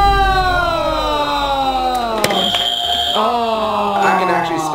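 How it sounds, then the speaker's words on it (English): A golden buzzer pressed on a talent show blares as a loud, sustained electronic alarm tone with layered harmonics, holding steady for several seconds with pitch shifts partway through. "if they love the act, they get to press the golden buzzer"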